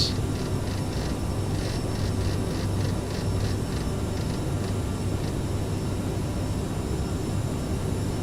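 Cockpit of an Aerosoft CRJ airliner in a flight simulator game, climbing out after takeoff from Ottawa in snow: a steady, dense engine and airflow roar that holds at the same level, with faint ticking on top.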